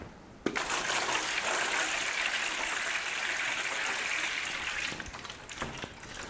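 Water pours steadily into a shallow microgreens growing tray, a continuous splashing rush that starts abruptly and tapers slightly near the end.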